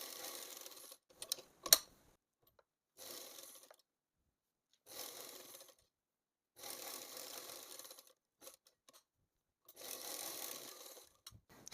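Sewing machine stitching the seams of a saree blouse, running in several separate bursts of steady whirring with short pauses between them, moderately close and with no talking.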